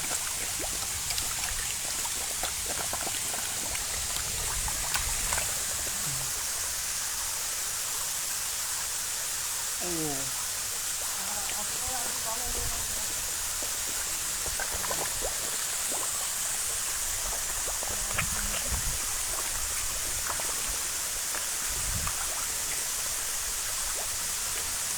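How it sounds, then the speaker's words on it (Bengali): Steady rushing and splashing of water from an artificial fountain at an amusement park in Dinajpur, Bangladesh, a continuous broadband wash lasting throughout with a few faint background sounds. "এত সুন্দর একটা ঝর্ণা পাচ্ছি আর কি লাগে"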